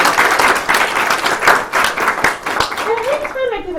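An audience at a public lecture bursts into lively applause, dense rhythmic clapping close and loud, while a voice speaks over the end as it dies down.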